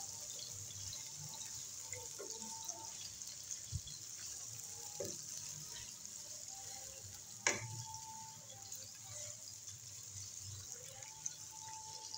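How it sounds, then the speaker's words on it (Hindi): Medium-sized chopped onions fry in a pan until brown, a steady close sizzle with scattered light clinks and scrapes of stirring and one sharper knock partway through. "अब हम इसमें प्याज का डालेंगे और इसको करेंगे ब्राउन।"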